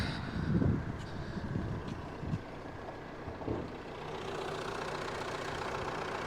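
A Renault Megane 3 with a 1.9 diesel rated at 130 horsepower idles with the bonnet open, a steady low rumble heard nearby with a few knocks and clunks early on.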